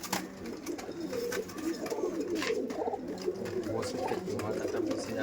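Punjabi pigeons coo steadily in their loft, close and continuous, with soft layered calls overlapping throughout.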